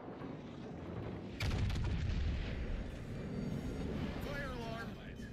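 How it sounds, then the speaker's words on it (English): Heavy naval gunfire in World of Warships Legends as an enemy battleship is destroyed, a sudden booming blast followed by rolling rumble and scattered cannon shots, with a player talking under it. "Enemy battleship destroyed."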